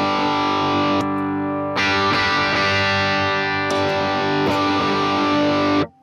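Electric guitar played through a distortion drive for a lead tone, loud sustained notes and chords ringing out in several long phrases with sharp attacks, cutting off abruptly at the end.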